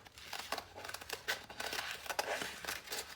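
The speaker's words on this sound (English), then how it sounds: "with scissors or with a knife, you can cut so some kind of shape" Scissors snip through folded paper, a series of quick, crisp crinkling cuts at close range, irregular in rhythm and fairly quiet, with no talking.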